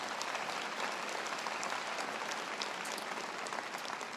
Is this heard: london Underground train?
no